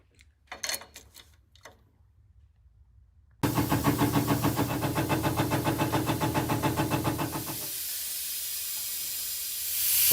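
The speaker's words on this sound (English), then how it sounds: "gonna hook up the shop air to the truck, pump up these tanks" A shop air compressor fills the air tanks of an LMTV military truck. After a short burst of noise comes a loud, steady rhythmic chugging that settles into a continuous airy hiss, with no talking.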